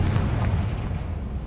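A Confringo fire spell explodes in the Hogwarts Legacy video game, a deep rumbling boom with heavy low-end energy that sustains steadily through the moment, with no talk over it.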